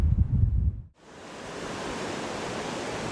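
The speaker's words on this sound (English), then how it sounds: "As you can see, it's a very windy day" Wind buffets the microphone with a low rumble, then gives way to a steady, loud broadband rush of wind and surf along an open shore.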